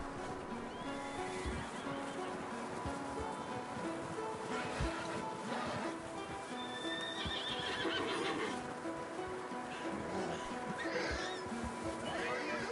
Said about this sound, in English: Micah, go bring the horses closer to the house.